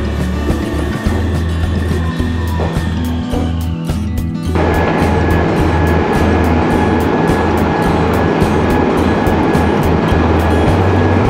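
A Meitetsu first train of the early morning, around 5 a.m., bound for Toyohashi, running along the line with a loud rolling rumble and rhythmic wheel clatter, a brief high whine near the start giving way to a steady close roar.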